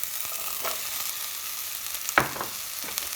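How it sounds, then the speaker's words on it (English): A leek and onion mixture being stirred in a pot for vegetable soup gives a faint, steady sizzle, with a few soft scrapes and clacks from the spoon. "And just give it a mix around with the onion."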